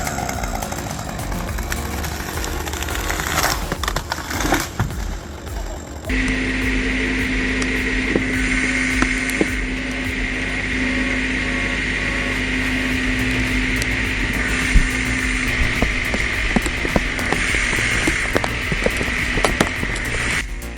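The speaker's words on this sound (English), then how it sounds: "That little tractor's doing a surprisingly good job with that 35-to-1 setup." Small tractor pulling a tree stump out with a 35-to-1 rigging setup: a steady, loud engine drone with a constant hum that starts abruptly after a few seconds of rough, clattering noise, running continuously with no talking.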